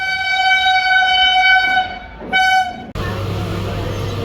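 A Pune local train's horn blares in a long sustained tone, cuts out, sounds again briefly, then gives way to the low rumble and rattle of the moving train.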